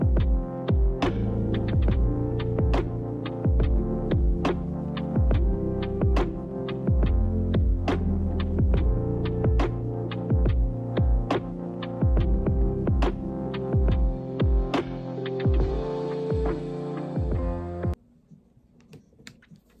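A sewing machine runs a zigzag stitch along a shirt sleeve, rapid evenly spaced mechanical clicks over a steady motor hum, close and continuous for most of the stretch before it stops and leaves quiet.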